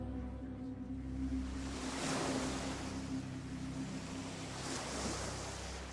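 Sea waves wash in a steady, broad roar with two gentle swells of surf, over a low sustained hum, moderately close and without voices.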